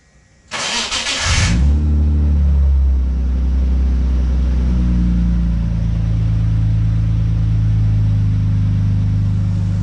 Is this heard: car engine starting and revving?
yes